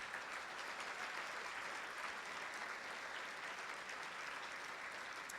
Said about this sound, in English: Now, a huge round of applause.